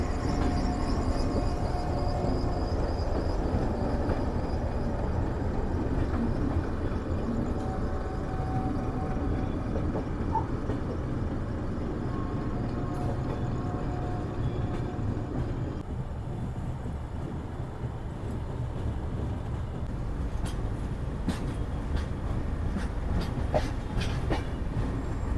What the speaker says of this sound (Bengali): আমাদের সেই Jagannath express Shalimar railway station থেকে ছেড়ে দিল পুরীর উদ্দেশ্যে